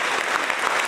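Applause from an audience at an opening speech event, a brief dense burst of clapping that fills the moment at full volume.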